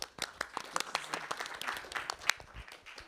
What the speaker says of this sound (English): Let's probably end quickly with a round of applause for the speakers.